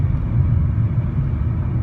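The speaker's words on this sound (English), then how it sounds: "now I'm going to slowly release the throttle pedal, and it will shift down or up through the gears" Mercedes automatic transmission shifting through its gears as the throttle pedal is slowly released, heard as a steady low engine and road rumble from inside the car, with no clear shift jolt standing out.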